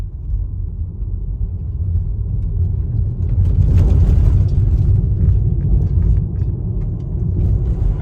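Tesla Model 3 cruising on the road, a steady low rumble of tire and road noise inside the cabin, swelling slightly midway, with no talking.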